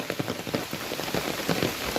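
Steady rain pattering on a surface outdoors at a rural spot with buffalo, a continuous close wash of drops with scattered louder hits throughout.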